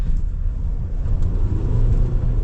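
An MG U9 ute's engine kicks down under a firm push of the throttle on a test drive, giving a steady, loud low rumble close by that holds through the whole stretch with a slight swell toward the end.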